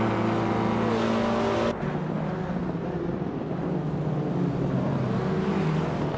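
Race cars roar through the tight corners of the Seattle circuit, a loud, continuous engine drone with one car's pitch dropping sharply as it passes close, then the field's steady din.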